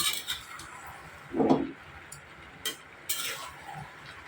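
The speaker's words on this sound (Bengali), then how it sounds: "মিষ্টি কুমড়া দিয়ে ভালোভাবে নেড়ে দিচ্ছি" Sliced pumpkin is stirred in a wok, with a few short scrapes and clinks of a utensil against the pan spaced apart over a quiet background.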